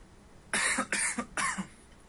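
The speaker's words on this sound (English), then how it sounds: "I coughed as I started coughing as I was tossing my die." A person coughs during a tabletop dice game, three quick harsh bursts close to the mic, with a short gap between each, and no talk.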